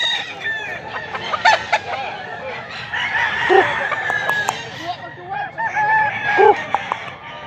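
A bullstag gamefowl rooster crows loudly and nearby, with repeated clucking and calls from other chickens around it, alongside faint talk in the background.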